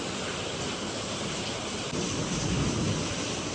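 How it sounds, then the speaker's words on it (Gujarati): Heavy rain pours down in Surat, a dense, steady roaring hiss that holds at an even level throughout, swelling slightly in the last second, with no voices. "વરસાદ છે ને બંધ થવાનું નામ તો લેતો જ નથી"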